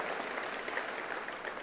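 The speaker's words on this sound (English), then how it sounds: "Let's give her a thundering round of applause." Audience applause at a Nation of Islam broadcast event, a steady dense wash of clapping that holds at an even level throughout, with no one speaking over it.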